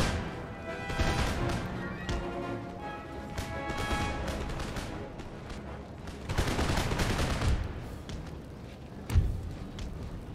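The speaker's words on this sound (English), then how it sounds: "Maybe one more volley in the breach." Musket volleys crackle across a battlefield in Empire Total War, with dense ragged gunfire rolling over a musical score, heavier bursts swelling midway and a sharp report standing out near the end.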